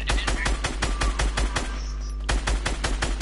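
Rapid automatic gunfire from Fortnite crackles in a steady, fast string of sharp shots, loud and close. It breaks off briefly and then resumes with a few more bursts.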